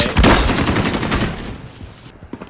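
Rapid gunfire bursts from Call of Duty: Modern Warfare while using the Kar98K marksman rifle, loud and close, with a dense stuttering volley in the first moments trailing into lighter scattered shots.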